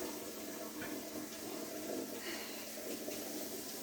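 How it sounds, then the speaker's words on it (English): Kitchen tap water running steadily at close range, a continuous broadband rush with no talking over it. "I like to have the water running a little bit before I use it for sanitation or drinking or anything"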